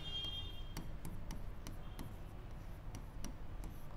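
A teacher writing a word on a board, sharp repeated taps and short scratchy strokes in an irregular rhythm, close and fairly quiet, with no talk over it.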